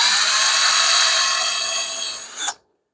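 Power drill boring a small pilot hole into a wooden door, a steady high whir lasting about two and a half seconds that dips slightly before stopping abruptly, close and alone.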